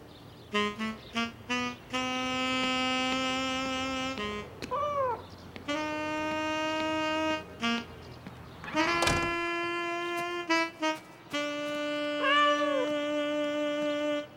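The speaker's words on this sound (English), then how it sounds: "No cats on the table." A cartoon cat gives a series of long, drawn-out, tuneful meows separated by brief pauses, clear and upfront with no speech over them.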